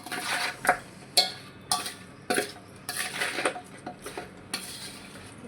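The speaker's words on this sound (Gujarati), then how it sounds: "આવી રીતે ગોળ નાખી દેવાનું પછી આવી રીતે મિક્સ કરી લેશું" Jaggery mixed into cut sour mango pieces for a sweet mango pickle, heard as a series of distinct spoon scrapes and clinks against a vessel, coming in irregular bursts about every half second.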